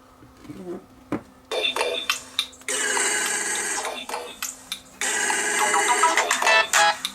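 A test phone rings in repeated electronic bursts, loud and close, with short pauses between them and a few clicks and knocks before the first ring.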